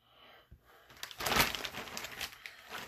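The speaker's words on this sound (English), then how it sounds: "Let's cut this bag open." A plastic bag around a promotional popcorn bucket is cut open and crinkles close to the listener. After a quiet start, the crackling swells into a dense rustle and then keeps fluttering irregularly.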